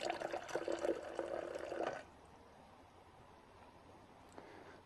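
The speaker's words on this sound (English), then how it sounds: "Pour some water into the bottom." Water poured into a bowl to pre-soak a filter, a bright splashing pour for about two seconds that stops abruptly, leaving quiet room tone with a faint drip near the end.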